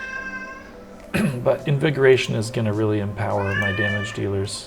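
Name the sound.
cat meowing in the background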